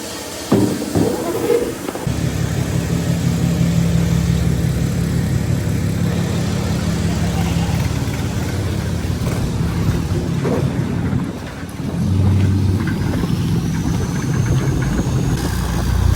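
A truck engine idles and revs at a drifting event in an abandoned power plant, steady mid-pitched drone with a few throttle surges, close and fairly loud, a brief dip near the end before it climbs again.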